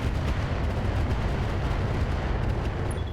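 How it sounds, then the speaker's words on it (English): Arrow 4 artillery fires alongside heavy rocket launchers in the BattleTech game RogueTech, a loud, continuous rumbling barrage of booms and blasts that fills the whole stretch without a break. "I'm thinking we're going to fire the Arrow 4 here"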